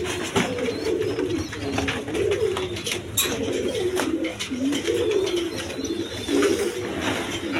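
Sirazi and Lahori pigeons coo close by in a repeated, throaty rolling rhythm, the calls overlapping one another steadily with no talking.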